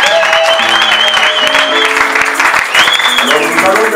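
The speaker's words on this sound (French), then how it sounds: "Ah, applaudissons les Seigneurs." Wedding guests applaud loudly and steadily at an African wedding ceremony, with tonal music and voices running beneath the dense clapping throughout.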